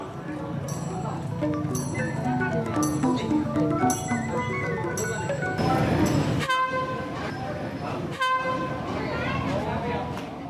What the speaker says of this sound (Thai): รถไฟจากมันเดเล เริ่มเคลื่อนเข้าสู่สถานีพินอุลวินช้าๆ